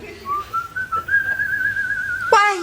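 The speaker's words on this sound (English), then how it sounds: "Why are you whistling like that?" A person whistles a short rising tune, clear and close, ending abruptly with a brief voiced sound.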